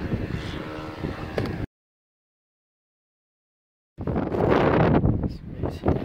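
An angle grinder cuts on a mobile home roof with a loud, harsh, broadband roar and wind buffeting. It cuts out abruptly for about two seconds, then resumes at full strength.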